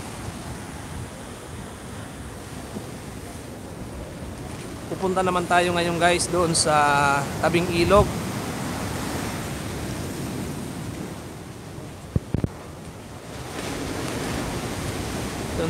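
During Typhoon Opong in Bicol, heavy surf roars steadily along NATO Boulevard in Sangay as a continuous rushing wash with wind, while someone talks over it for several seconds.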